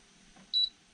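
A Pioneer 12k BTU mini split air conditioner gives a single short electronic beep, clear and close, after a moment of near silence.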